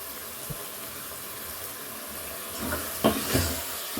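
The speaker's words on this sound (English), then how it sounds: "We are giving it a good mix." Leftover stew with rice pilau is stirred in a pot, giving soft scraping and gentle sizzling with a few sharper spoon knocks toward the end, fairly quiet and with no talking.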